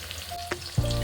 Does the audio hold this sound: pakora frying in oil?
yes